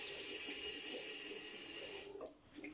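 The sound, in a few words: water running from a tap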